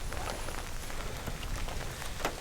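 Rain patters steadily on surfaces at a campsite, a soft, even, close hiss with scattered drop taps and no voices.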